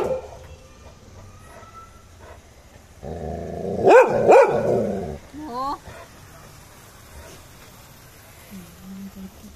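A Labrador dog barks twice, loud and close, then gives a few softer growly yelps, while a person speaks quietly around it.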